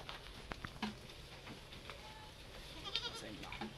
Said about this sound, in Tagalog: Mga kambing natin.